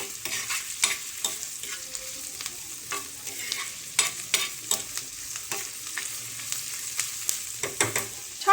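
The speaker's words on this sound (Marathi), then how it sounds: "कांदा आणि लसूण टाकले मी तेलामध्ये" Chopped onion and garlic frying in hot oil, a steady close sizzle with frequent sharp clicks and scrapes of stirring throughout.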